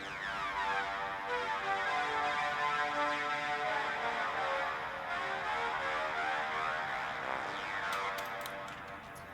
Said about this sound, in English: So for the lead in the intro, sounds like this.